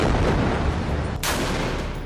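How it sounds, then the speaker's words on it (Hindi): Artillery shells fired on the Jabalia refugee camp, a dense continuous roar of fire with a sharp blast cutting through partway, loud and without speech. "जबालिया कैंप पर हमास के ठिकानों पर तोप से भी गोले दागे गए।"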